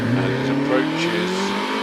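A Westfield sports car races up the Prescott hillclimb course, its engine revving hard and close with a rising, rasping note over a couple of seconds.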